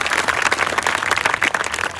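A large audience claps loudly, a dense and sustained wall of applause that continues without a break, close and full.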